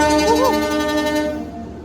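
An Indonesian passenger train, the Supas service, pulls away from a station on the Gresik–Probolinggo route, sounding a loud two-tone horn blast that then fades into a steady rumble.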